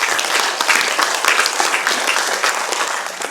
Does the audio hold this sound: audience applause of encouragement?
yes